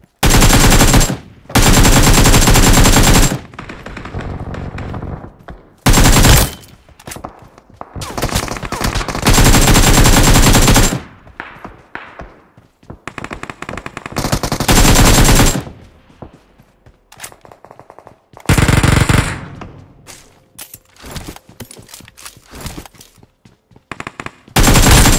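Automatic gunfire in the mobile battle royale game BGMI: loud repeated bursts of rapid shots separated by short pauses, with no voices.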